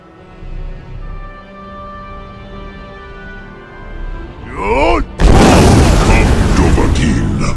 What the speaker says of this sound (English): strike me with the fire of your Thum